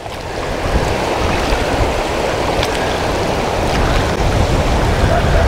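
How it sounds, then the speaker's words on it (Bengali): Water flowing over the stony bed of the Jayanti river in the Dooars, a steady broadband rush heard up close with light wind on the microphone and no voices. "জয়ন্তী রিভার বেড, জলের শব্দটা শুনুন।"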